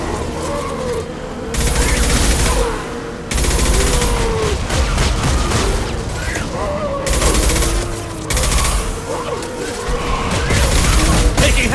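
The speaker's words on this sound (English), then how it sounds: "Taking heavy fire!" Heavy sustained gunfire in Mass Effect 2 with loud automatic bursts, booms and mechanical clatter in dense waves; the firing cuts off abruptly a few times and resumes close and intense.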